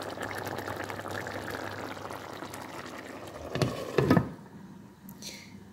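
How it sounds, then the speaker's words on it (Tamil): Bitter gourd curry simmering in a pot gives a soft, steady bubbling hiss, broken near the end by a couple of brief clattering knocks before it quiets down. "பாருங்கோ, நல்ல வடிவாக கொதிச்சு வந்துட்டுது."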